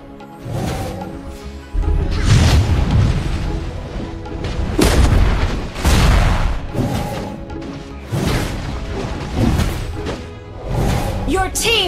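Turret destroyed in Mobile Legends, heavy booming impacts and explosive blasts recurring every second or two amid battle effects, loud and punchy, with game announcer voice lines in between.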